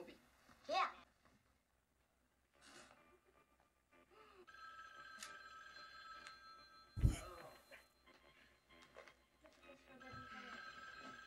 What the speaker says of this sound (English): You just sit down and the phone rings.